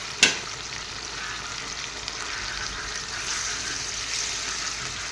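Pieces of fried fish simmering in a carrot fish curry, giving a steady, close bubbling sizzle throughout with a brief sharp clatter near the start.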